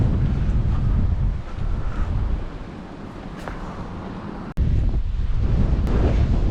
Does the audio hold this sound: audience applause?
no